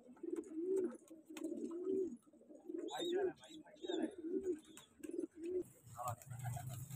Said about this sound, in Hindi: ये मुख्तलिफ वैरायटीज़ में कबूतर मैं आपको दिखाने जा रहा हूँ।